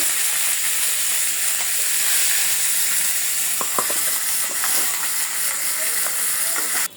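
Katla fish heads frying in hot oil in a pan, a steady, loud, close sizzle that runs on continuously with occasional sharp pops and spatters, ending abruptly.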